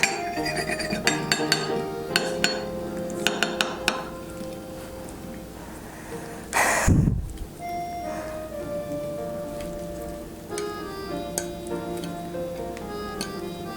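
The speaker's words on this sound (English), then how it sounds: "take your blueberries and place them into a round pie dish" Light clinks and ticks of blueberries and utensils against a round pie dish while making a blueberry crumble, sparse taps over a faint background hum with one louder clattering thump midway, no speech.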